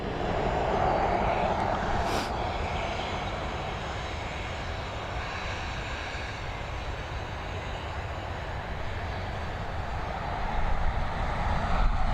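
An Emirates jet departs at Dublin Airport, a broad, sustained engine roar heard from a distance that swells slightly toward the end, with no talking.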